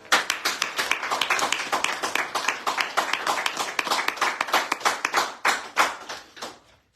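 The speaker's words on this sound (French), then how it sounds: "un grand coup d'applaudissement" On a French radio show, a small group claps briskly, sharp distinct handclaps close to the microphone in a fast irregular stream, tapering off toward the end.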